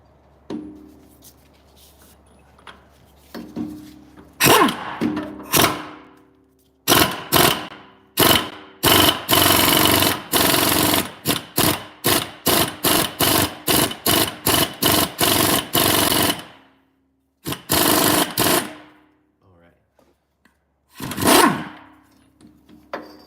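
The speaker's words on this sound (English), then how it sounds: "get our impact gun in here" Impact gun working a differential pinion nut, firing in repeated loud close bursts of rapid hammering with short gaps between them, then stopping and starting again near the end, with no talking.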